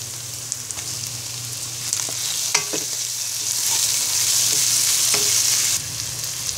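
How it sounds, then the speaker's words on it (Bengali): Chopped onion and tomato fry in a pan for Bangladeshi hotel-style nehari, a continuous close sizzle with occasional spatula stirs and taps, steady and without voices. "পেঁয়াজটা ভাজা হয়ে গেলে এখন দিয়ে দিচ্ছি একটি টমেটো কুচি।"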